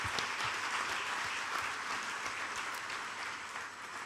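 Sustained applause from a large crowd, a dense steady wash of clapping that holds at a constant level for several seconds without voices.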